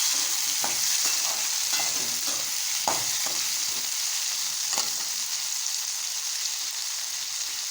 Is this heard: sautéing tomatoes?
yes